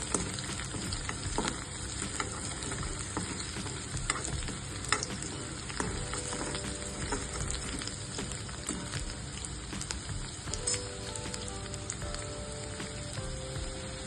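Ginger and garlic frying in oil for a spicy fresh green pea curry, a faint steady crackling sizzle with light stirring taps throughout, no speech.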